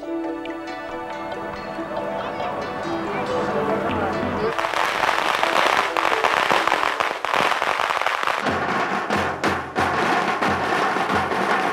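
Firecrackers crackle in Nha Trang, Vietnam, alongside a brass fanfare: a dense burst of sharp pops and rattles erupts after a stretch of band music and keeps going loud and irregular.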